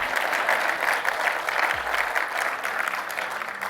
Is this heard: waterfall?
no